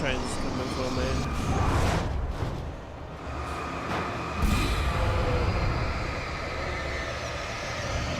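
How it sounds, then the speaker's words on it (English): A train approaches in the Alan Wake video game, a heavy continuous rumble and rattle that swells around the two-second mark and again near four and a half seconds, with game sounds layered on top. "Now the train's coming for me."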